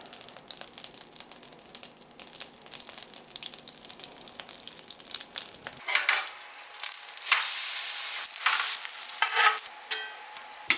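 Pancake batter hits a buttered pan and breaks into a bright, steady sizzle that swells and crackles for several seconds, following a quieter stretch of stirring and kitchen handling with no one talking.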